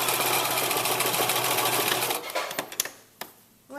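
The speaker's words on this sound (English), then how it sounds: "For this, you're going to need a sewing machine." A sewing machine stitches a zigzag along fabric casing, running loud and steady for about two seconds, then slowing into a few separate clunks and clicks as it stops.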